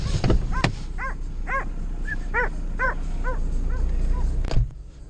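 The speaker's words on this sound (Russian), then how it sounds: "С ошейником какая-то собака породистая. Бегает или потерялась бедолага, или ищет кого." A purebred dog in a collar, loose outdoors, gives a series of short yips and whimpering barks at a steady pace. A few sharp knocks frame the calls.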